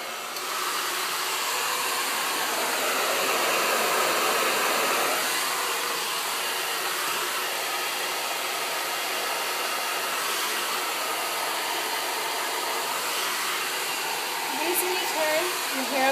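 Hair dryer fitted with a spring-loaded diffuser attachment runs continuously at close range, a steady loud airy whoosh throughout with slight shifts in tone as it moves.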